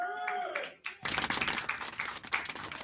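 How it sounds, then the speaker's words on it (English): Applause at a history quiz panel about Remagen, a short burst of handclapping from a small group that begins after a brief spoken word and runs fairly close and moderately loud. "Applause, applause."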